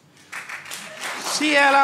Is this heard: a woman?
yes